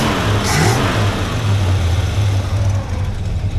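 A 1965 Lincoln engine runs steadily close by with a low, even rumble. It swells briefly near the start.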